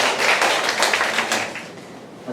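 An audience claps to welcome a teacher at a school parents' session, a dense, steady burst of applause that starts strong and slowly thins out over a couple of seconds.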